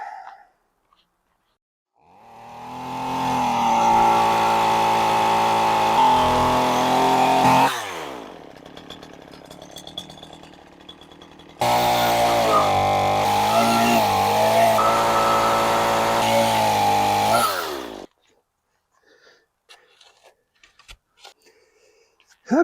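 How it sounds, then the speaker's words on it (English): Chainsaw cutting through overbuilt wooden porch steps, running loud and close in two long sustained bursts with revving pitch shifts, separated by a quieter idling gap and ending in near silence. "Time to break out the chainsaw."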